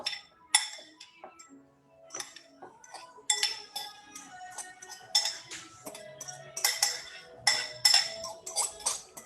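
A spoon stirs a couscous breakfast with fruit in a bowl, making irregular close clinks and light scrapes against the dish, with quiet gaps between bursts of stirring.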